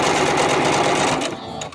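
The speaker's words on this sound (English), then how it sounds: "start stitching your 1/4 inch seam" A sewing machine runs steadily while stitching a quarter-inch seam on quilt half-square triangles, a close, rapid, even whirring that slows and stops near the end.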